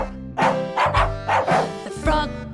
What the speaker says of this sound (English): The dog goes woof.